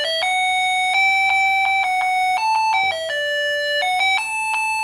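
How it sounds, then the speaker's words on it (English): A UM66T melody IC on 3 volts plays a bright electronic beeping melody, a simple tune of clear square-ish tones stepping between pitches, loud and close with no talking. "This is the sound of UM66T."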